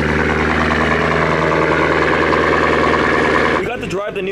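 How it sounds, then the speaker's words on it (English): Cadillac Escalade-V SUV cold start, its engine holding a loud, steady, rumbling idle close by for several seconds before the sound cuts away as a voice begins to speak. "Let's start this morning with one of the best cold starts you'll hear out of an SUV"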